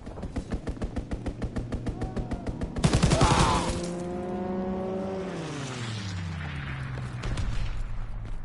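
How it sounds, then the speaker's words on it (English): Rapid automatic gunfire from an enemy strafing run in a video game, sounding as a long fast burst followed by a roaring aircraft engine that sweeps past and fades. "Enemy strafing run incoming."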